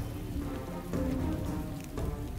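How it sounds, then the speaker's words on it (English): Rain falls in the town-building video game Community Inc, a continuous rushing patter at moderate level with faint tonal game ambience underneath and no speech. "Oh, it's raining."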